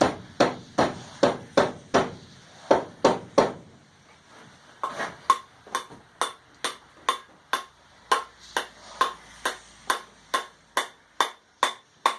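Hammer blows drive a steel step wedge into the eye of a hand-forged cross peen hammer head, sharp metallic strikes in two bursts: a quick cluster of about ten, a pause, then a steady run of evenly spaced ringing hits.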